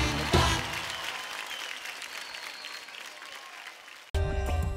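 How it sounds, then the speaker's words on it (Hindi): Audience applause for two singers on the Indian Idol Season 12 stage, a dense wash of clapping that swells early and holds steady for about four seconds before cutting abruptly to loud music. "एक बार जोरदार तालियां हो जाए दोनों के लिए"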